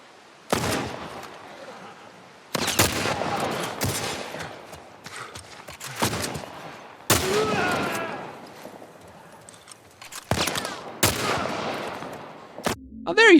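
Gunfire in The Last of Us remake, heavy single gunshots spaced a second or two apart with reverberant tails, loud and close, mixed with game sounds.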